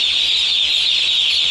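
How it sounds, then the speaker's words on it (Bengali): Lohmann broiler chicks from a Kazi Farms batch of 900 on a poultry farm, a dense continuous chorus of high chirping, loud and close, without talk. "900 মুরগির বাচ্চা তুলছি কাজী ফার্ম থেকে।"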